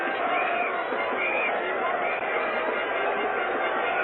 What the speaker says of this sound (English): the crowd gathering in there now, mobbing over the pitch